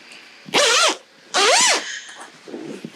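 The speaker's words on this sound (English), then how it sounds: "I'm just going to zip this up" A zipper is pulled shut along a reupholstered caravan club lounge cushion cover, in two quick, close rasping strokes separated by a short pause, followed by faint handling rustle.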